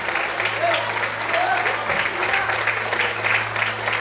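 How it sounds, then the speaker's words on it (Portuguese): A congregation claps during an evening church service, steady clapping mixed with voices and a low electrical hum throughout. "Aplaude o Senhor, glorifica Ele nessa noite"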